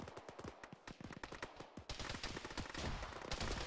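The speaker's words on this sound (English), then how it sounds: "Where are those shots coming from?" Rapid bursts of automatic and single-shot gunfire in the Arma military game, dense cracks starting sparse then becoming loud and continuous, with no talk.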